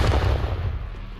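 A grenade detonates in Call of Duty Black Ops Cold War, a short heavy low boom that decays over about a second.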